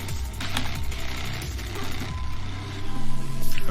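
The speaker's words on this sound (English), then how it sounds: "It sounds like a garbage truck or something right now." A deep, gritty car engine in a Unity video game: a rough, pulsing low rumble like a garbage truck, loud and continuous, with no talking over it.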